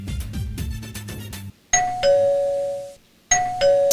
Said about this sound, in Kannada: ಬೆಲ್ಲೊತ್ತು